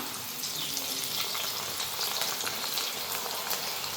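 Sliced tapioca fries in hot oil in a home kitchen, giving a steady, close sizzling crackle that stays even throughout, with no one speaking.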